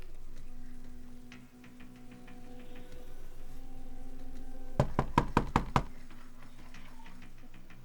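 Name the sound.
police knocking on an apartment door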